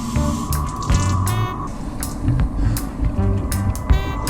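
Water splashes and trickles from a running tap into a sink, with a steady rushing stream and intermittent drips, fairly close.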